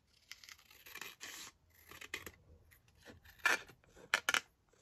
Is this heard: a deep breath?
no